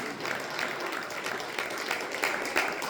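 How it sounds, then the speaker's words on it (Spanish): A church congregation applauds for Jesus, dense steady clapping throughout, moderately loud and filling the room, with no clear speech over it. "Denle un aplauso fuerte a Jesús."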